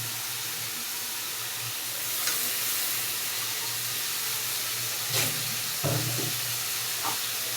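Prawns cook in a frying pan of spiced tomato masala, a steady close hiss of steam swelling into a few short sizzling bursts, with no talk.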